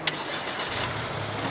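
A small light car's engine turns over with a brief click and then settles into a steady, close idle hum for about a second and a half, with no voices.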